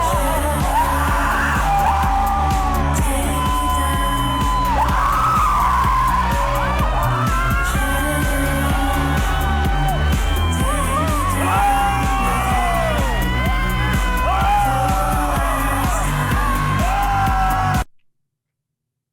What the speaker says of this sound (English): Here is a group of white people screaming into a volcano.